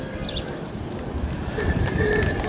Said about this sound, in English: got a beautiful Palomino horse using a side saddle.